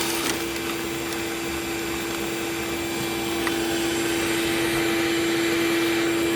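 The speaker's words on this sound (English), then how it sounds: "let's go grab the shop vac. I'm cleaning all this shit out of the way real quick." A shop vac sucks up debris in a garage with a steady, loud, unbroken drone and a fixed whine, lasting the whole clip, near and alone with no talk.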